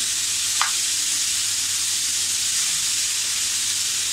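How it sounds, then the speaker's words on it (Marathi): Grated carrots sautéing in ghee over medium heat for gajar halwa, giving a steady, close sizzle and hiss throughout with a single brief clink of the stirring utensil early on; no talking. "4-5 मिनटं तरी आपल्याला परतायचं आहे."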